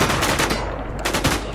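Rapid gunfire in a video game, loud and close, with several overlapping bursts of shots and no speech.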